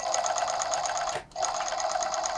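A high-speed overlock sewing machine runs steadily with a fast, even ticking pulse that signals its changed, worn sound. It drops out briefly near the middle, then resumes at the same loud, close pace.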